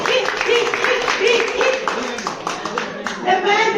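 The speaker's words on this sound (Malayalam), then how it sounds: "കൈയടിച്ച് പ്രോത്സാഹിപ്പിക്കൂ" A group of people clap in quick, uneven rhythm at a gender reveal party in Norway, close by and mixed with several voices talking over the clapping.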